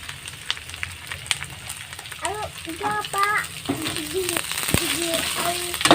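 Taro stolons sizzling and crackling steadily in hot oil in a home kitchen, a constant frying hiss with a person speaking over it.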